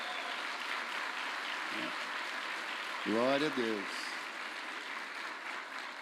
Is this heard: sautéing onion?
no